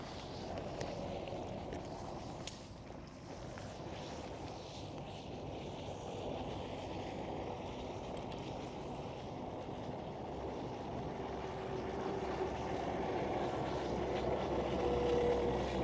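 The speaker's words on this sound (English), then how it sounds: "Coming right at me. A 4-engined aircraft." A four-engined aircraft approaches at Schiphol Amsterdam, a steady distant roar slowly building in loudness, heard alone without talk.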